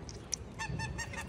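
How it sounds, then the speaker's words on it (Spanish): Hungry ducks crowd in for bread, giving a short burst of nasal honking calls, a few quick notes close by with no talking. "todos los patos quieren que comer pan, que vienen a verte"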